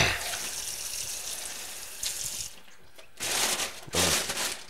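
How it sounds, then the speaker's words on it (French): Tap water running into a bowl of fresh mussels to rinse them, a steady splashing pour that thins out briefly before two louder bursts of flow near the end. "Commence par mettre un peu d'eau."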